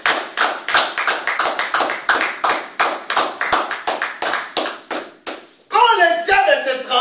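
A church congregation claps to acclaim Jesus, a brisk, steady run of sharp group claps up close, then singing voices take over near the end as the clapping thins out.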